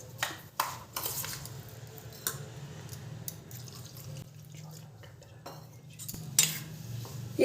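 Semolina being mixed with salt and room-temperature water for appam batter, with light metallic clinks and taps of a spoon against a bowl over a quiet background hum, no speech.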